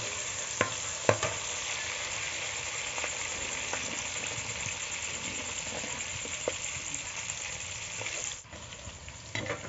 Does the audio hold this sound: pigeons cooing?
no